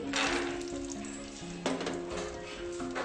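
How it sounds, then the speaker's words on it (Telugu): Cashews frying in ghee over a low flame in a pan, a steady close sizzle with a few soft stirring clinks, no voices. "లైట్ ఫ్లేమ్లో పెట్టుకొని ఇలా ఫ్రై చేసుకుందాం కాజునంతా కూడా."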